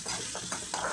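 Masala gravy frying in hot oil with curry leaves, a close, continuous sizzle broken by a few quick stirring scrapes.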